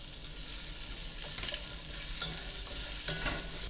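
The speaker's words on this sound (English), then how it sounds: "Immediately we want to get these onions in." Onions sizzle and fry steadily in a pot after the beef has been lifted out, with occasional stirring scrapes over a continuous close hiss.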